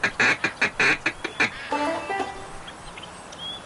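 Ducks quack in the Duck Dynasty video game, a run of loud, rhythmic quacks from a duck call close by, followed by softer, more distant duck sounds.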